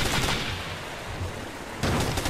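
Full-auto gunfire in the Ghost Recon video game, a dense continuous rattle of rapid shots lasting a couple of seconds, with a louder burst near the end.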